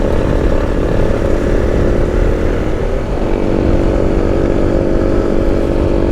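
Motorcycles racing each other on a road, a loud, buzzing, high-revving engine drone that holds steady and shifts pitch midway, close and continuous, with no talking.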